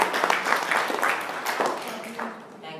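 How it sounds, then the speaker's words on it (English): Audience applause fills a youth leaders' meeting, a dense, steady wash of clapping from many hands that fades slightly toward the end. "please let us put our hands together to give a big round of applause"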